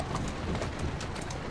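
Horse hooves clip-clop on a London street in the game Assassin's Creed Syndicate, a quick continuous patter of hoofbeats from a carriage horse under a dense background wash.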